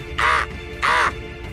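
Two loud, harsh caws from a nearby crow, each about a quarter second long and spaced evenly apart over a low background hum.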